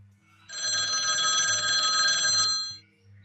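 Telephone bell ringing in a home, one steady sustained ring of about two seconds with a faint low hum before and after, clear and close with no talk.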